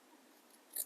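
Scissors snip through patchwork quilt fabric along a marked line, a single brief, quiet cut near the end of an otherwise hushed moment.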